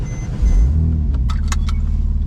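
A custom Porsche 997 911 Turbo with a newly fitted exhaust rumbles close by with a strong low surge, while a few sharp metallic clicks and jingles sound over the engine.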